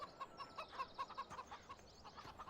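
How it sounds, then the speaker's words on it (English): Chickens roam a farmyard in the video game Farming Simulator 17, clucking in a quick series of rhythmic, repeated pulses that slow and fade toward the end, faint but clear, with no voices. "Got our chickens just wandering around the yard freely"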